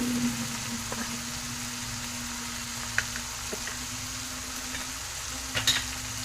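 Paneer masala with turmeric sautéing in a pan, a steady soft sizzle running throughout with a few light clicks of stirring, close and even, no voices.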